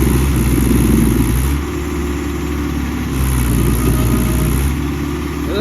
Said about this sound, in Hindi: पहिए जो है ट्रैक्टर के वे वहीं के वहीं चक्कर बना रहे हैं